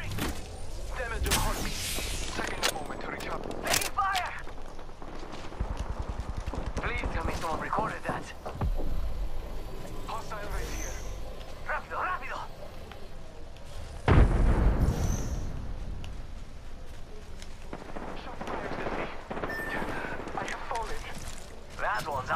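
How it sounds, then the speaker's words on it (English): Gunfire in an Apex Legends match at Kings Canyon, scattered bursts of shots and impacts with a heavy blast midway, mixed under excited talking throughout. "They're shooting at me?"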